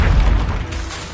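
A Confringo spell explosion in the video game Hogwarts Legacy, a single loud, heavy boom that rumbles and fades over about a second.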